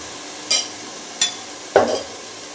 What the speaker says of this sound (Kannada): ಹಾಕಿ ಫ್ರೈ ಮಾಡಬೇಕು ಫ್ಲೇವರ್ ಚೆನ್ನಾಗಿರುತ್ತೆ